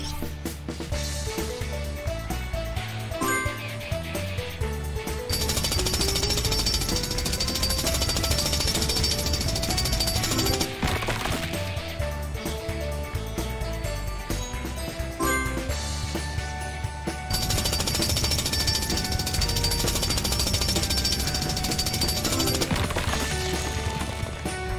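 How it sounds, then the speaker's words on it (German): Rubble's drill hammering at a boulder blocking the path in a Paw Patrol video game, a loud steady jackhammer-like rattle running throughout over game music. "Hilf Rubble mit seinem Bohrer, den Weg frei zu machen."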